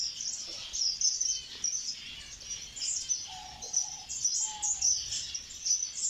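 Small finches, including cheek-patched waxbills, chirp and tweet in an Iraqi aviary sanctuary, a faint busy chatter of high calls going on without a break, with a couple of soft longer notes in between.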